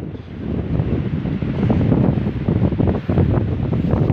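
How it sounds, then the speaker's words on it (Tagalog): Strong wind blows across a fishing boat at sea, a loud, continuous rushing roar buffeting the microphone, with surf-like swells throughout. "Makalakas ang hangin."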